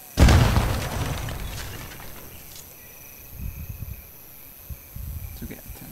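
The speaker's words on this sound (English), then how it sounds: "Grenade." A grenade blast in Sniper Elite 4 erupts loudly and close at the very start, then trails off into a long rumbling decay, followed by quieter scattered thumps and rustling.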